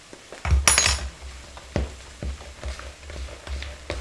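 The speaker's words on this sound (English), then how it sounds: "you start stirring this up. So you're now mixing this up" A spoon clatters and scrapes against a bowl while rock cake mixture is stirred, giving irregular knocks and clinks, one loud clatter near the start, then lighter taps at an uneven pace, close and with no talk.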